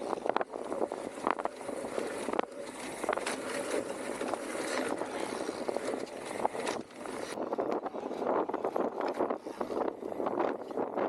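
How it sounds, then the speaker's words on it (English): Wind buffeting the microphone while riding a Trek Rail 9.7 electric mountain bike on a flowy trail at Bluff Creek Ranch, a continuous rushing roar that swells and fades. "There's that wind again."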